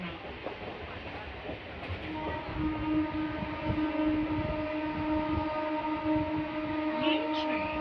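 Local train pulling out of Ichhapur station on the Budge Budge–Naihati line, a steady rumbling ride with sustained tonal whine building as it gathers speed, with faint voices in the carriage.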